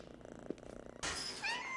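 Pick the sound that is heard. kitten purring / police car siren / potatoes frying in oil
kitten purring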